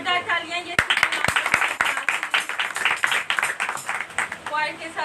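Loud clapping fills a Wednesday prayer meeting, a few sharp individual claps leading into rhythmic group clapping, with voices speaking and calling out over it.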